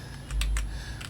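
Keys clatter on a computer keyboard as a command is typed, a short close burst of several quick taps over a faint steady hum.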